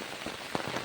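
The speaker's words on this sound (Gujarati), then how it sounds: "અત્યારે પણ વરસાદ ચાલુ છે" Heavy rain falls outside during a storm, a close, steady patter of drops on surfaces with a few louder splashes standing out.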